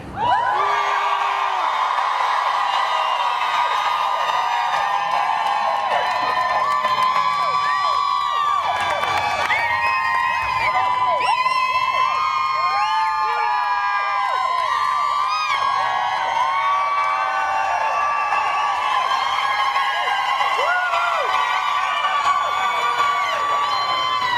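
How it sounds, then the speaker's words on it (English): Outdoor rally crowd for medical freedom cheering, whooping and yelling continuously and loudly for the full stretch, many voices layered together with high shouts rising and falling. "I want to hear you cheer for freedom"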